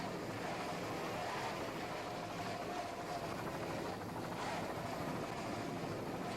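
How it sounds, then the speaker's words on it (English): Racing powerboats, a Fountain Deep V-boat and a 31-foot Conquest catamaran, roar continuously under throttle in 1989 race action, a dense steady engine wash with slight pulsing, no talk. "Terry Hill doing a fine job on the throttling, as you can hear."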